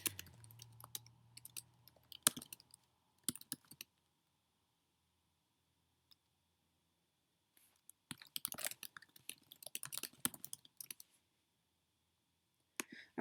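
Typing on a computer keyboard while entering a cancellation policy into an account setup form, with short bursts of quiet key clicks separated by long silent pauses.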